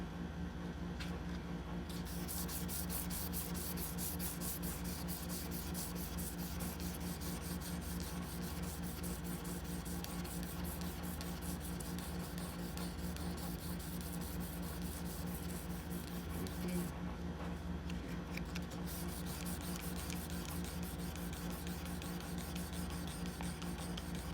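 A chef's knife spine is hand sanded with worn 800-grit sandpaper: a steady, close rasping rub that runs without pause, with a low constant hum underneath.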